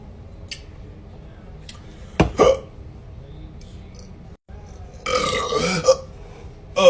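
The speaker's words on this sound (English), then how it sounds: "I got the hiccup now" A person hiccups and burps after drinking beer. A sharp hiccup and a belch stand out near the middle, then a longer rougher burst follows over a quiet, faintly hissy room.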